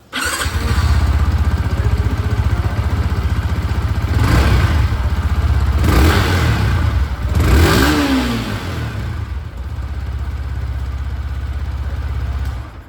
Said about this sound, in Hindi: एक बार जो एग्जॉस्ट साउंड है वो मैं सुना देता हूँ।